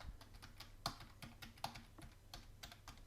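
Keys on a computer keyboard are typed in a quick, irregular series of soft clicks while a password is entered, with two sharper taps standing out; it is quiet and close, and no one speaks.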